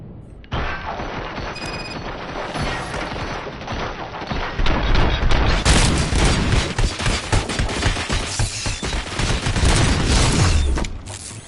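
Sustained heavy gunfire from many weapons aimed at a ship in a Robocop setting, a dense, loud, continuous barrage of shots and booms that swells after the first few seconds and keeps roaring without a break.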